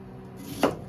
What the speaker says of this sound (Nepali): मैले यहाँ चाहिँ हाफ चाहिँ प्याज लिएको छु। यसलाई चाहिँ मैले डाइस कट काट्ने छु